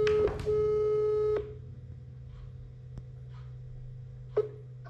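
Telephone tones while placing a call: a loud steady tone lasts about a second, then a quieter background hum follows, broken by a few faint clicks and a short beep.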